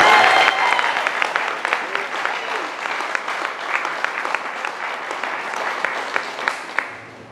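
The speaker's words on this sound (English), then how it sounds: "can we just get an applause for our Supreme Court?" Rally crowd at a Second Amendment gathering bursts into sustained applause for the Supreme Court, dense clapping loud at first and continuing steadily for several seconds with occasional sharper claps and faint voices underneath.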